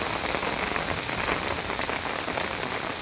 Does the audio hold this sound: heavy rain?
yes